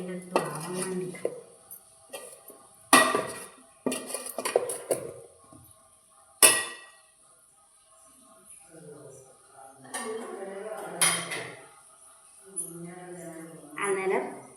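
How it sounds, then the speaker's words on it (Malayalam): Food being stirred in a metal pot while cooking rice: scattered loud spoon clanks and scrapes against the pot in bursts, with a person talking between them. "നമുക്കൊന്ന് ഇളക്കി കൊടുക്കാം."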